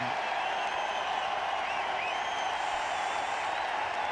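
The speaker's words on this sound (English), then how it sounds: "As he raises his bat there, the crowd goes wild." Cricket crowd at Mohali roaring steadily as Tendulkar raises his bat after his half century against Australia, a dense, continuous wash of cheering and clapping with no single voice standing out.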